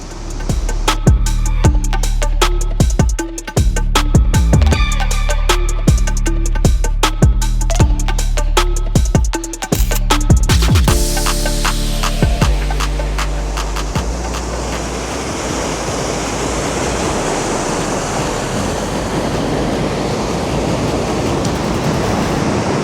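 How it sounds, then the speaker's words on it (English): Sunset Falls waterfall, heard from a bench overlook, pours as a steady broad rush of falling water, with a stretch of louder clattering and knocking from handled gear near the mic in the first half before the water continues alone. "This bench here is a perfect overlook of the falls."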